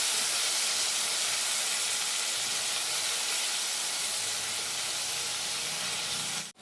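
Ingredients for tomato soup sauté in a hot pan with a dense, steady sizzle and hiss, close and loud, fading out sharply at the end.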